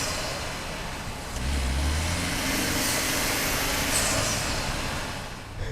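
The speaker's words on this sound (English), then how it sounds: "Best part is turbo noises." Driving in a 2025 Ford Maverick Lobo, the cabin fills with steady road and engine noise, and a faint rising turbo whistle and whoosh of boost builds and releases with the throttle.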